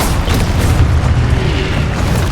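A Confringo explosion spell goes off in the Hogwarts Legacy video game as a loud, dense booming rumble that fills the short moment.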